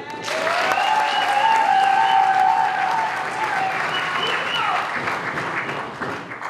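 Loud sustained audience applause at a political party convention in a large hall, a thick continuous roar of clapping with some whistle-like tones and crowd noise mixed in.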